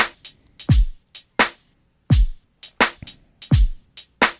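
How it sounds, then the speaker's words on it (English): A hip hop drum pattern plays alone and loud, with booming kicks and sharp snares landing squarely on the beat. Bright cymbal and hat ticks fill the gaps in a sparse, punchy loop. "the kick and snare are bang on the 1 and 2"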